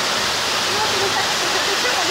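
A waterfall at Tai Tam roars as a steady, dense rush of falling water close by, with faint voices under it.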